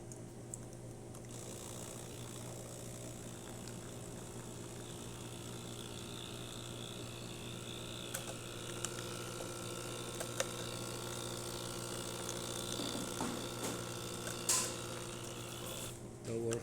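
A Breville Barista Express espresso machine, repaired after a solenoid failure, dispenses hot water with a steady, faint mechanical pump hum and buzzing whir that runs for many seconds, broken by a few small clicks near the end.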